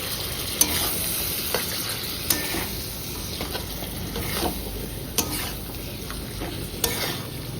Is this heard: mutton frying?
yes